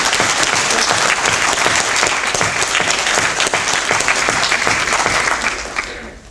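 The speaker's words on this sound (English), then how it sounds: "I'd like you to all just join me in giving a round of applause to Dr." Audience at a conference closing ceremony gives sustained, loud applause, a steady dense clatter of many hands indoors that holds for several seconds before tapering off at the end.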